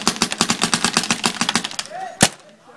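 A paintball marker fires in a rapid burst of about a dozen evenly spaced, close, punchy pops, followed after a short pause by one louder shot outdoors on a field.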